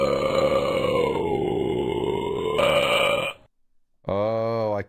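Cartoonish burping mouth sound effect from a flash video game, a long, loud, wavering belch followed by a short pause and a second, shorter, tonal burp.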